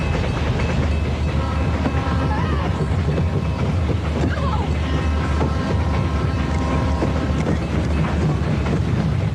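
A train bearing down in a film scene, a loud continuous rumbling roar with rail clatter and screeching metallic tones filling the whole stretch, with no talking.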